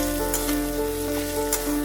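Ginger-garlic paste frying with onions in a pan for Dak Bungalow chicken curry: a steady, close sizzle with a low hum and a few soft stirring touches, no talk.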